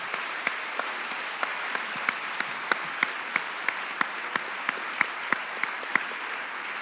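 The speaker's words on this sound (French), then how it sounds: "Je vous invite à les applaudir chaleureusement." A small audience claps at a talk on the brain and teaching. The claps are sparse and evenly spaced against a quiet background, and no one speaks.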